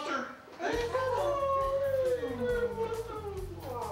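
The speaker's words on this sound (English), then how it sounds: "We have a little puppy named Maggie that we got from the shelter" A young shelter puppy howls in a long, rising and falling wail that breaks into whimpers, close and loud, after a brief quiet start.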